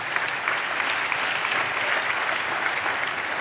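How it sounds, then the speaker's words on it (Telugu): Congregation at a church service applauding, a dense continuous roar of many clapping hands that stays loud and steady throughout. "చప్పట్లు కొడితే యేసయ్యకి స్తోత్రాలు చెప్పాం."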